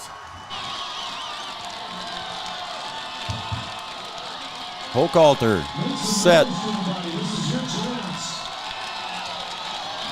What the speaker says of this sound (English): you can hear the crowd getting loud